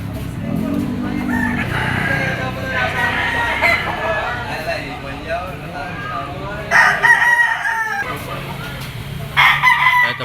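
A yellow-legged lemon sweater bloodline bullstag rooster crows loudly and close, several full crows mixed with clucking from other fowl at a market, with a voice speaking briefly in the background.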